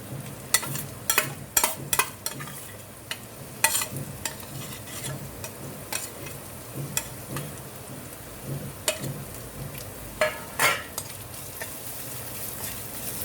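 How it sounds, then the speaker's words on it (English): Ginger, garlic and chilies fry in a pan with a continuous sizzle and a crackle like rain, under repeated sharp scraping and clacking strokes from stirring. "And fry it, saute it for a minute."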